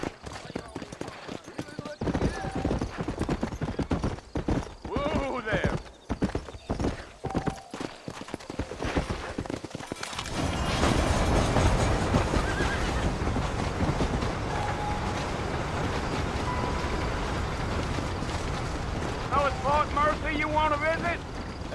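Hooves clip-clop in the Red Dead Redemption video game, first in sparse beats amid wind and a voice, then a denser, louder gallop under rushing wind and further talk.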